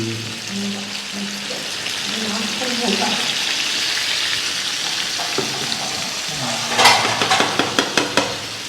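Fish curry sizzling in a pan on the stove, a steady frying hiss with a voice talking over the start, then a splash of added water and a run of quick utensil clatters against the pan.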